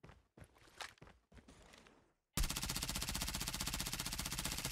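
Submachine gun fire in the mobile shooter Call of Duty: Mobile: after a few footsteps and short noises, a loud, rapid sustained burst of automatic fire starts abruptly and continues to the end.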